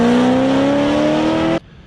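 A manual Ford Mustang's engine, held by a WOT Box at launch RPM with the clutch in and throttle floored, drones loud and steady at high revs for about a second and a half, then cuts off abruptly.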